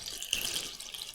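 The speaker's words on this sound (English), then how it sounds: "So I'm going to put some water in." Water poured from a tap into a container, a steady bright splashing rush that runs throughout at close range with no talk.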